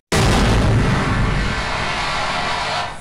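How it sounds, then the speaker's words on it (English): A loud, roaring explosion in a Half-Life 1 mod game bursts in suddenly and sustains as a dense, rumbling blast for nearly three seconds before trailing off. "Get killed by random explosion."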